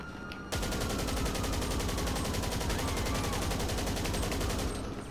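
Gunshots in a rapid, continuous stream like sustained automatic fire, loud and close, starting abruptly after a brief quiet moment and running to the end.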